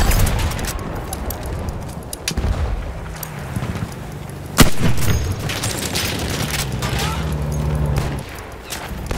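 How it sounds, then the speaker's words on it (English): Battlefield 1 combat on the Giant's Shadow map: a loud grenade blast near the middle stands out over a steady bed of gunfire and distant booms, with scattered sharp shots throughout and voices now and then. "Here's a grenade bomb!"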